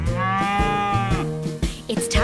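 Sung moo sounds in a children's farm song about a farmer milking a cow, a voice imitating a cow mooing over a steady musical backing, with drawn-out harmonic tones repeating through the short passage.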